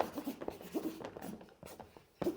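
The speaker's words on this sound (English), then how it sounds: "I want you to write the word can't." A pen writing a short word on paper, with close, quiet scratchy strokes in uneven bursts and brief pauses between them, and no voices.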